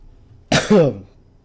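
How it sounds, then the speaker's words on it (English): A single sharp cough close by, a quick double burst that trails into a throaty rasp, then quiet, after drinking root beer during a Panzer Corps gameplay session. "Sorry for the coughing, ladies and gentlemen."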